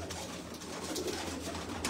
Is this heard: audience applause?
no